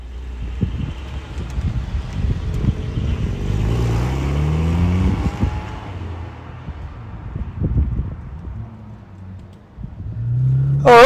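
Porsche Cayman GTS 4.0 driving on the road, a steady engine rumble with rising and falling revs and gear changes, wind noise buffeting the microphone, and a sharp rev climb at the end.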